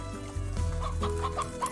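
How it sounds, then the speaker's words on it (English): Briar hens cluck in the video game Slime Rancher, a run of short, repeated clucks over a steady background hum, with no talking. "those things like the briar hens"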